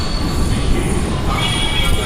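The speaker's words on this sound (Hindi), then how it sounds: "मेरा मेट्रो भी चला।" A metro train pulls away with a loud, steady rumble and squealing wheels on the rails, heard from close by, its noise filling the whole space.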